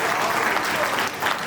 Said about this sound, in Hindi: सम्मान करते हुए तालियां जरूर बजाएं।